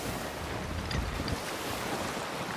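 Sailing ship out at sea in Sea of Thieves, a constant rush of waves and wind washing around the hull, steady and moderately loud throughout with no voices.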